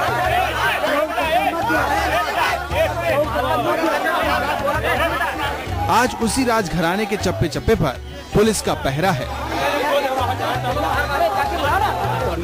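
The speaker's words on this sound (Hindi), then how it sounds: "लोगों की भीड़ है" A crowd of people gathered outside the Amethi palace, a dense murmur of many overlapping voices with someone speaking close over the babble throughout.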